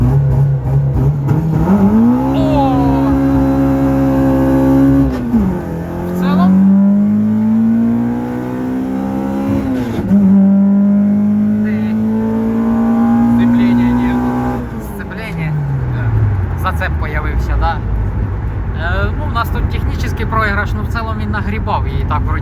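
A car launches at the start of a 402 m drag race. The engine revs hard and climbs through several gear changes, loud and close, with people talking over it.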